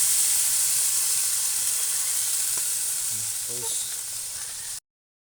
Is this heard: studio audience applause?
no